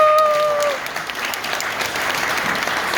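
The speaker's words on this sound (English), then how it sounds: "Let's applaud ourselves for making through another quarantine." A stand-up comedy audience claps for three seconds. The applause is fairly loud and dense and trails off slightly, with no talking over it.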